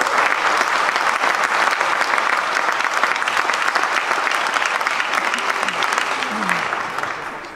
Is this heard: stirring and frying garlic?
no